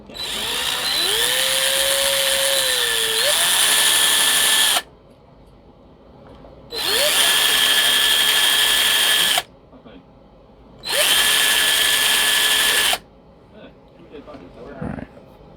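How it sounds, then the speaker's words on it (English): A power drill boring out a hole in the neck joint of a 1966 Harmony Bobkat guitar, running in three loud sustained bursts of a few seconds each, with pauses between them and some faint handling noise at the end. "So the hole has been drilled out"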